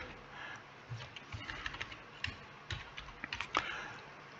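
Someone types on a computer keyboard while entering an invoice in garage management software, producing faint, quick, uneven clusters of soft key taps.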